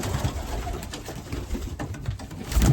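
A racing pigeon coos in soft, repeated throaty calls close by, set against low background rustle, with no speech.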